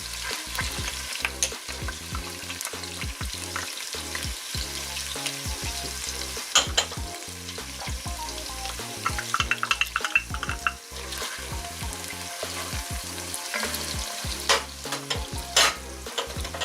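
Onions and shallots frying in oil in a pan, a steady crackling sizzle broken by frequent clinks and scrapes of a utensil stirring, close and without talk.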